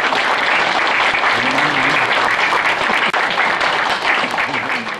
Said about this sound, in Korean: 우리 후배들이 힘찬 박수를 보내주시면 대단히 고맙겠습니다.